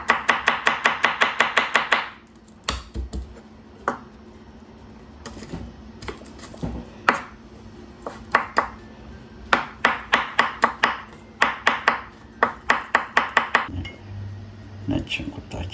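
Garlic chopped on a board with a knife, rapid close rhythmic chops in fast bursts separated by pauses and scattered single knocks.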